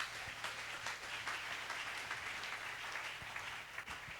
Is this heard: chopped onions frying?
no